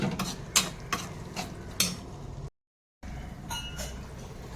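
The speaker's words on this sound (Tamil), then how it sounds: "இப்போ பிரியாணி மசாலா போட்டு இந்த இதோட வதக்கி விடுவோம்" Biryani masala being sautéed in a pan for egg biryani, with quick metallic clatters and scrapes of a spatula over a low sizzle, briefly cut to silence midway before the stirring resumes more softly.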